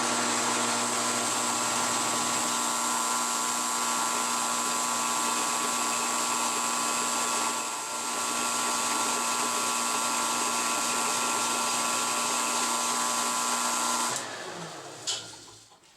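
Metal lathe turning down a brake part, a steady loud whine with sustained tonal hum that drones on without pause and then winds down near the end, heard alone without talk.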